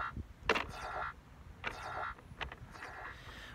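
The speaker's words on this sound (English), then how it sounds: "that sound is letting me know that Rover is recording using the new stereo cameras I've got installed" A robot rover makes a funny signalling sound to show it is recording with its stereo cameras. It comes as a few short, faint bursts at uneven intervals.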